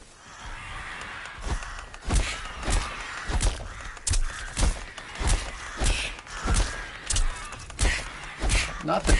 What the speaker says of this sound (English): Not the crows.